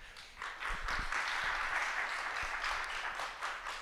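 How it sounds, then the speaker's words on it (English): An event audience gives a sustained round of applause, steady dense clapping that swells after the first half second and holds at a moderate level with a few sharper claps standing out. "can I incentivize you to give these people another good round of applause?"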